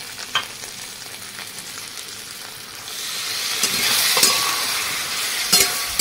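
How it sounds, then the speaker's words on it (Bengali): A spice paste of cumin, coriander, ginger, chili and Kashmiri chili powder with a little water fries in a pan. A soft sizzle swells louder halfway through, with occasional stirring scrapes and no voices. "ভালোভাবে মশলাটা আমি কষে দেবো।"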